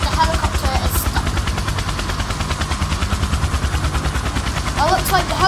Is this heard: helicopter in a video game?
yes